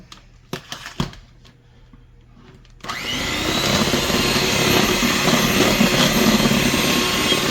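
Chocolate poke cake batter being mixed with an electric mixer: a few handling knocks and clicks, then the motor starts and holds a loud, steady whirring drone to the end.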